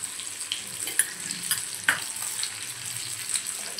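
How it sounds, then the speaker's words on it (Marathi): Rava-coated pomfret fries in oil in a pan over medium gas for Malvani-style paplet fry, giving a steady close sizzle with soft crackles and a few sharper pops. "मीडियम गॅसवरती आपण पापलेट एका साइडनं छान फ्राय करून घेऊया।"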